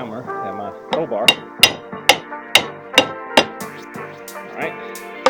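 A hammer strikes sharply about eight times at a steady pace, close by, during deck baluster installation, with ringing metallic tones and some speech mixed in.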